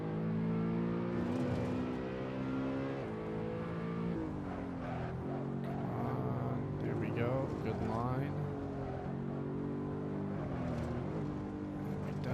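A BMW E92 M3 engine on a hot lap of the Nürburgring, holding a loud, continuous high-RPM drone with rising and falling pitch as the car accelerates and shifts, steady throughout the lap.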